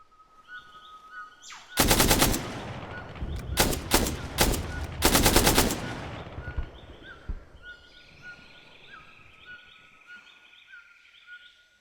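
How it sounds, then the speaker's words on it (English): Several loud bursts of rapid video game gunfire ring out close by, separated by short pauses, then fade into a quieter background with faint chirping tones. "we are hearing gunfire from the ruins"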